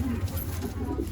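Madrasi pigeons in a pigeon loft, cooing close by in a dense, continuous low murmur of overlapping calls.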